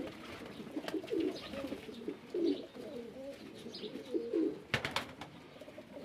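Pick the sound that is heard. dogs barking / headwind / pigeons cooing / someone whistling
pigeons cooing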